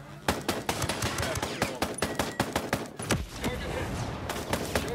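Rapid automatic gunfire in the military shooter Ghost Recon Breakpoint, sharp repeated bursts of loud close shots with brief gaps, over faint background voice chatter.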